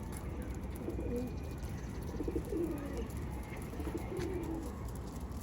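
Pigeons in a loft with growing young, cooing in low repeated phrases over a constant background hum.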